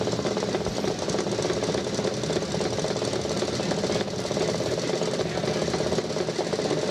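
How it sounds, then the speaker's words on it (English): A 1930 Francis Barnett 250 two-stroke motorcycle runs steadily, its exhaust a continuous, fairly loud, rapid popping drone that stays even throughout without speech. "pong, pong, exhaust note, isn't it?"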